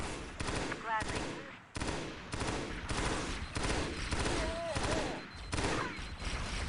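Sustained automatic gunfire in Halo SPV3, with long rapid bursts broken by short pauses and a few whistling projectile sounds, loud and close throughout.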